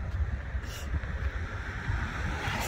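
Strong outdoor wind buffets the microphone on a street, a steady low roar that lasts the whole time with no voices over it.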